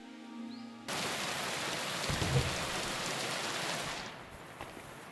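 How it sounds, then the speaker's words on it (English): Muffled rain in the medieval video game Kingdom Come: Deliverance II, a steady dense hiss that starts abruptly, holds for about three seconds, then thins out and softens. "I like how the rain is muffled."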